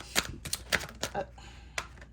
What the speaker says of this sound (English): Why is your cards like flipping out of the deck?